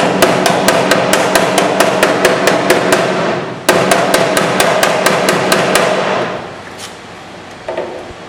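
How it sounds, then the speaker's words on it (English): Rapid, steady hammer taps ringing on car body sheet metal while a dent is pushed out, loud and close, with a brief pause midway, then slowing to a few lighter knocks. "Get your hammer and tap as you're pushing out."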